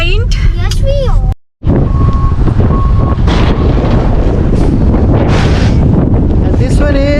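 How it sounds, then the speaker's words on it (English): Strong wind buffeting the microphone on a coastal stop along the 17-Mile Drive in Monterey, California, a loud continuous roar with a brief dropout, with voices talking over it at the start and end. "It's not cold. It's only windy."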